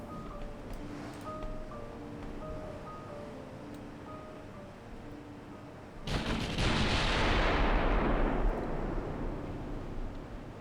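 In the warship game Ultimate Admiral Dreadnoughts, soft interface tones give way to a sudden loud naval gun salvo that booms and rumbles away over several seconds.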